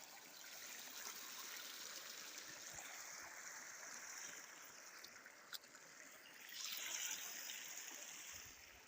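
Irrigation water flows steadily into a farm field, a soft continuous rushing and trickling heard faintly at a distance, with a slightly louder surge toward the end.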